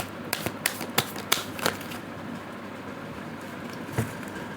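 Tarot cards being shuffled by hand, a cluster of close, crisp flicking snaps at the start, then quieter handling and one more flick near the end.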